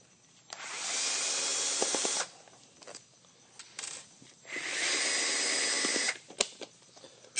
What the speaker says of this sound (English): You simply remove those 4 screws, and I'll do that now.